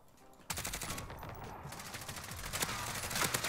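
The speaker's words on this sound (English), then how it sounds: "They're shooting over here" Call of Duty Warzone gunfire that kicks in suddenly, rapid automatic bursts rattling steadily and swelling toward the end, fairly close and loud with no talk over it.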